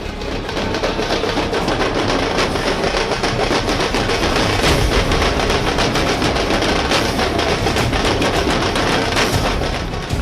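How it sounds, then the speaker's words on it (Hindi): Dhol drums and fireworks roar together at a political welcome procession in Patna for a new JDU party president: a dense, loud, unbroken wall of crackling bursts and pounding beats with no pauses. "ढोल नगाड़ा, आतिशबाजी।"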